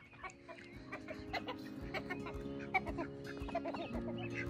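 Two khaki Campbell ducks call softly among farm fowl, with quiet clucking and chatter scattered through a steady low background hum.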